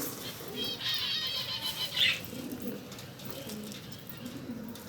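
Shirazi pigeons coo in soft, low murmurs close by, with a brief flutter of flapping wings early on and quiet chirps in between.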